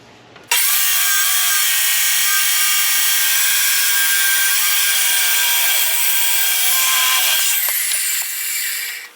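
A power saw cuts through metal tubing for a pipe fence, starting abruptly into a loud, steady high-pitched grinding whine that holds for several seconds and then tapers off, with no talking.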